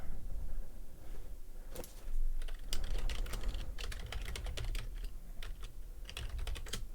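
Rapid typing on a computer keyboard at a trading desk, clusters of sharp close key clicks in uneven bursts over a constant room hum.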